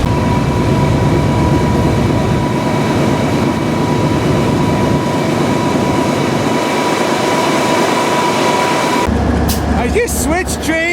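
A BNSF freight train pulls out at Alliance, Nebraska with a loud, continuous rumbling roar and rattling cars close by. A steady tone runs through it, and near the end the noise shifts to mechanical squeals and clanks.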